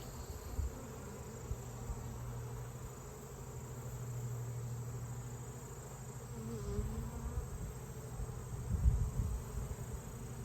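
Honey bees buzzing at an open hive during a varroa mite check, a steady low drone from many bees close by that swells and fades softly, with a faint background hum and no talking.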